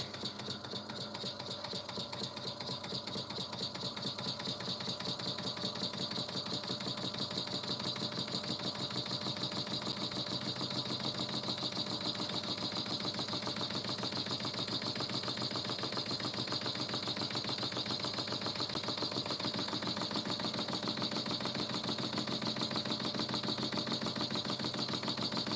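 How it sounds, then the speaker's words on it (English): A small model piston-valve engine, with no seals on either the piston valve or the piston, runs steadily with a fast, even mechanical chatter and a faint whine, holding its pace throughout with no talk. "it's a piston valve design, and there's no seals on the piston valve here, and there's no seals on the piston either"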